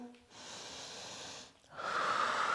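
Slow, deep breathing during a yoga downward dog pose: a long, soft airy exhale followed by a stronger breath with a slight nasal, snort-like rasp, close and quiet.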